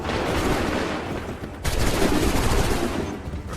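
Volleys of gunfire in the game Assassin's Creed 3, a dense crackle of many muskets firing together, breaking off briefly and then resuming louder as a heavy sustained barrage.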